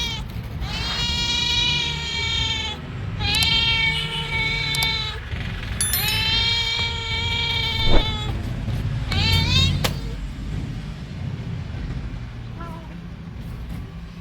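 A cat meows repeatedly in long, insistent wails close by, with a background hum and a few knocks between the cries.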